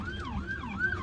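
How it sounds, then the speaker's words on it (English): An ambulance siren wails in a rising and falling pattern, heard somewhat faintly from a distance on a road during a bad storm. "And there's an ambulance."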